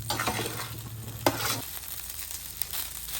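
Cooked rice frying in a little oil on a hot Blackstone griddle, heated into the 400s, with Spam fried rice in progress: a close sizzle with scraping stirs and a sharp clack of a utensil partway through, no talking.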